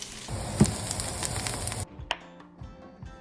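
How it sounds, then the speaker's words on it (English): Red onions sauteing in a large pot over medium-high heat, giving a steady sizzle that drops off sharply partway through, then only faint clinks and light kitchen sounds. "Toss those onions into a large pot over medium-high heat and saute them for about 5 minutes until they're soft and fragrant."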